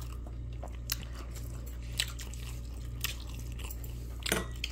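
Someone bites into crunchy kkakdugi, cubed radish kimchi, making four sharp, close crunches spaced about a second apart over a quiet background hum.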